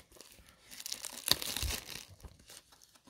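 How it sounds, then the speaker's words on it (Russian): A Marvel Avengers blind-box figure package is torn open up close, with a quiet crinkling rip of plastic and paper that swells briefly in the middle, alone with no talk. "Давайте вскрывать, ребят, посмотрим, что внутри у нее."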